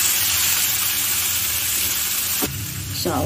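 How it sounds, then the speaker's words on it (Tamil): Onions, tomato and green chillies frying in a pan for poha, a loud continuous sizzle that hisses steadily, then shifts to a softer crackle near the end, with no talking. "வெங்காயம் எல்லாம் நல்லா இப்போ வதங்கிடுச்சு நம்மளுக்கு"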